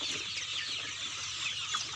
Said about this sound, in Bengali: দেশীয় জাতের মুরগি এই মুরগিটা আমি অনেক দিন আমরা অনেক দিন ধরে লালন পালন করতেছি